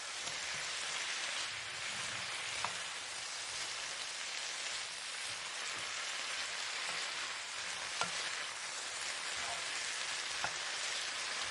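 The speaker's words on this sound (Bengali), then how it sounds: "এখানে আমি দিয়ে দিচ্ছি ভেজে রাখা শিম ভেজে রাখা শিম দিয়ে ভালো করে মশলার সঙ্গে মিশিয়ে নিচ্ছি" Fried flat beans being mixed into sizzling spice masala give a steady, even frying hiss like light rain, close and unbroken, with occasional faint stirring taps.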